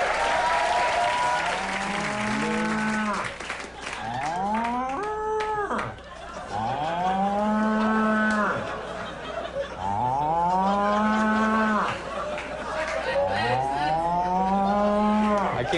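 A voice imitates a cow, giving five long, loud, drawn-out moos one after another with brief pauses between them.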